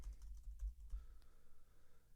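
Typing on a computer keyboard, entering a title into music notation software: a quick burst of close, soft key clicks that then stops, leaving faint background hiss.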